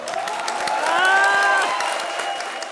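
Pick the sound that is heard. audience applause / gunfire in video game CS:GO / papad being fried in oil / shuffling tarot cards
audience applause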